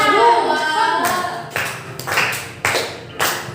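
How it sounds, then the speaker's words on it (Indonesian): Schoolchildren in a fourth-grade class clap their hands together in a few short, sharp bursts. The bursts come in an uneven rhythm after a brief stretch of a voice speaking at the start. "Nanti anak-anak bisa tepuk tangan ya."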